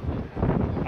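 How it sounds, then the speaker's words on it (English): Wind buffets the microphone on a blowy outdoor day at a street demonstration, a steady low rumbling roar with gusts swelling through the second, close and fairly loud. "And a very blowy day, very windy."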